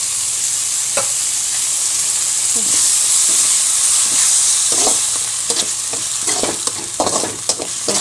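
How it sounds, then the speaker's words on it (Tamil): Loud, continuous sizzling of dried shrimp sautéing in hot oil, with scattered stirring scrapes and pops toward the end. "இது கொஞ்சம் வதங்கட்டும்"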